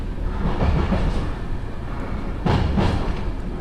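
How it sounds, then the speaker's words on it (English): Simulated JR East train running on the Joban Line, a steady rumbling roll with low wheel noise and a brief swell of clatter as it passes a row of stabled trains, alone with no talk. "It's going past a whole heap of trains that are stable."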